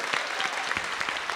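Library audience at an author visit applauding, dense steady clapping throughout with individual claps standing out, fairly close and moderately loud, no speech over it.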